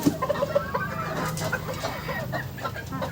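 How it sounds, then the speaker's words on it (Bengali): Sonali parent hens cluck on a farm, with several short, overlapping nearby clucks and calls over a low barnyard murmur. "এগুলো হচ্ছে আমার প্যারেন্টস সোনালি মুরগি"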